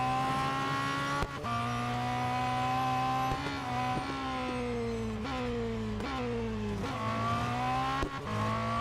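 A race car lapping in the mobile racing game Real Racing 3 roars steadily, its engine pitch rising and then dropping sharply at each of several gear shifts, loud and without talk.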